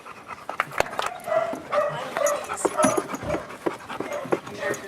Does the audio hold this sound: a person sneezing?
no